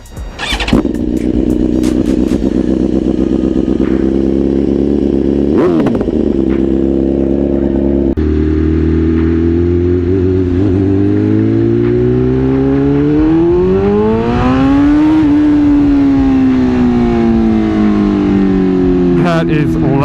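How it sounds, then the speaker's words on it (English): A BMW S1000RR with an Akrapovic exhaust starts and runs, loud and close, the engine note climbing and falling through revs and gear changes for a sustained stretch. "Alright, starting up the Akrapovic exhaust."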